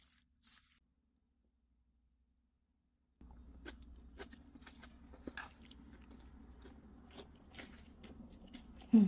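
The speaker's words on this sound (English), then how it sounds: "Even after cooking and dressing, those potatoes are incredibly crunchy." Someone chews crunchy Sichuan spicy potato salad, shredded potato dressed in numbing chilli oil with kale and carrots, close and quiet, with irregular crisp bites and wet squishes after a silent start.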